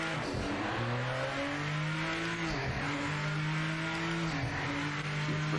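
A GT500 race car engine in the racing game Project Motor Racing revs hard through repeated gear changes, its rising and falling whine steady and loud, with no talking.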